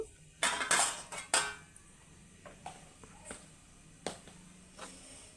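A metal lid is set onto a frying pan of potato fry, giving a few sharp clanks and rattles close by in the first seconds, then scattered faint clinks over quiet background.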